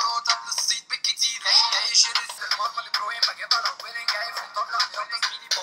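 Music plays through a smartwatch's small, tinny speaker, thin and bright with little bass, continuous and fairly loud.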